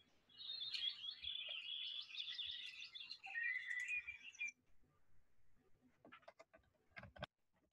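Small birds chirp in a busy, high twittering burst for about four seconds, then a few faint scattered calls and clicks follow.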